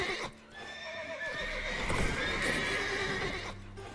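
Horses in the Witcher 3 video game neigh and whinny over clip-clopping hooves, a loud whinny carrying through the middle of a short game scene with no talking.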